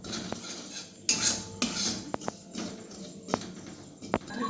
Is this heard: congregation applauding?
no